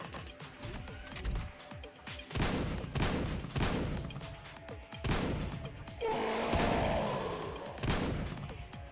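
Pulse rifle fire from the XPiratez video game erupts in repeated loud bursts, sharp volleys clustered a second or so apart, with a crashing impact swell partway through.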